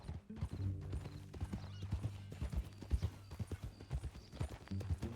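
Horse hooves clip-clop in Red Dead Redemption 2, a steady rhythmic trot of close, distinct hoofbeats over a low hum of game music, with a brief whinny-like sound early on.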